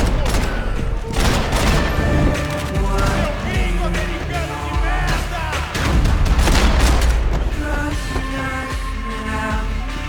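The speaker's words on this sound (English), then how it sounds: "Grenades." In the Max Payne 3 video game, at an airport, grenade explosions and gunfire form a loud, continuous barrage of booms and rapid shots with no break.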